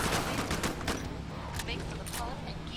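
Rapid gunfire in the co-op shooter Killing Floor 2: dense, overlapping bursts of shots that run without pause, loud and close.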